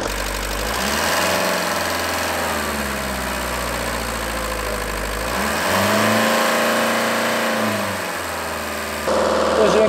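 A Mercedes W201 engine runs steadily after a coolant refill, a close, loud, even hum whose pitch sags and rises a couple of times as revs shift slightly.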